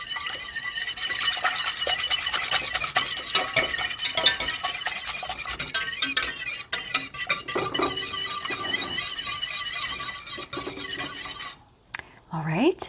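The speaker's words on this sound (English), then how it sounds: "Now I'm going to add my milk. And I'm going to give that a bit of a whisk as well," A whisk beats milk into foamy egg whites in a bowl for a chocolate pudding. Bright, fast, continuous metallic clinking and scraping goes on for about eleven seconds, then stops abruptly with a brief squeak.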